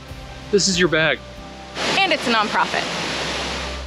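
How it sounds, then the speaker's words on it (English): Steady rushing water from a Big Island, Hawaii waterfall hisses in the background as a person speaks nearby, the roar continuing once the talking stops. "So if you really like rushing water"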